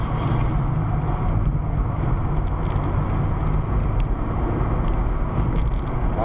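A Mk4 VW Jetta 1.8T on a track day at Raceway Park, a steady, loud engine and road drone from inside the car with wind rush, no pauses.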